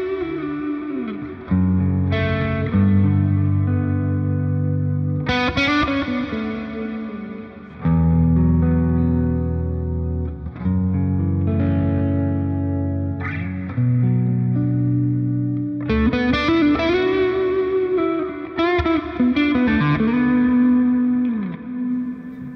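Electric guitar through a Randall RD1H amplifier with a rough, crunchy overdriven tone. It plays chords and riffs with sustained distorted notes and short pauses between phrases, loud and close, with no talking.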